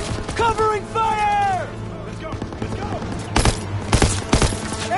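Machine gun fire in a Call of Duty battle: rapid bursts of shots come in the second half, while shouting voices dominate the first part.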